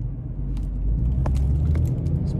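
A car driving to school in cold weather, with a steady low engine and road rumble throughout and a few faint clicks and rattles inside the cabin.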